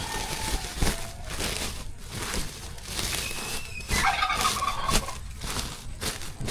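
A pet turkey gobbles in bursts of rapid, rattling calls, fairly close, with faint rustling and handling noises between them.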